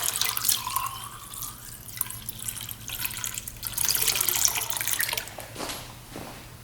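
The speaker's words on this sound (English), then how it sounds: "Using a little bit of a simple green. Pour a bunch in there." Simple Green cleaner is poured from a bottle into an ultrasonic cleaner, a continuous liquid splash and trickle with some dripping, fairly quiet, while a low steady hum runs beneath it.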